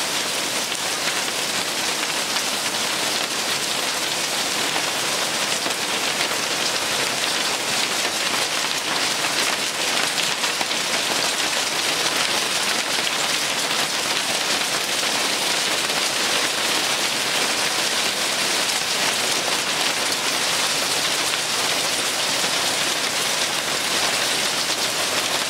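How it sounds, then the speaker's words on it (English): A hailstorm pelts a vegetable garden with pepper plants, making a dense, unbroken hiss of impacts that stays loud and even for about twenty-five seconds, with no voices. "I'll cut in some video of a hailstorm."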